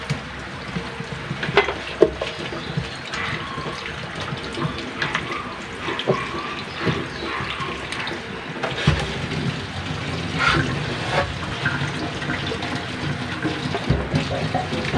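Water from a tap splashing and running continuously as the outside of a newly bought water container is rinsed, close and fairly loud with no talk.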